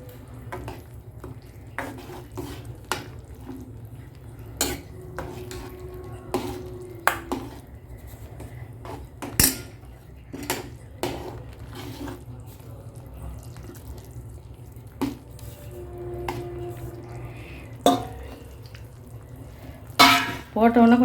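A ladle stirs ragi flour and rava in a pan, making scattered scraping knocks and taps against the metal over a low kitchen background, with some louder clanks near the end.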